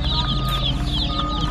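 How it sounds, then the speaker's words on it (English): Young meat chickens cluck and peep together in a steady, busy chorus, close by, over a low rumbling background. "All right, these little meat birds are looking good."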